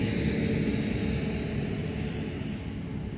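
A tractor passes beside a farm field, a loud, steady low engine rumble with broadband roar that eases slightly as it moves on, mixed with wind.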